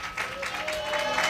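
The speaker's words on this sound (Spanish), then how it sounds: "Fuertes aplausos para Cristo" A church congregation claps during a Spanish-language sermon, a brief burst of steady applause at moderate loudness, with a faint voice beneath.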